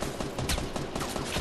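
Rapid bursts of video game gunfire crackle through a dense, noisy battle mix, several shots overlapping at close range with no clear pause.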